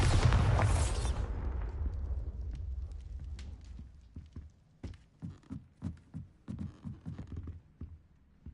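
A Bombarda spell in Hogwarts Legacy bursts with a loud, close blast that rumbles and fades over a few seconds, then a run of soft rhythmic thuds follows.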